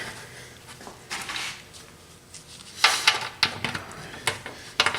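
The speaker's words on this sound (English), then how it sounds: "And put our pan on." A metal oil pan fitted onto a 4R100 transmission over a new rubber gasket, with a series of close metallic clanks and taps, louder in the second half, amid quiet workshop background.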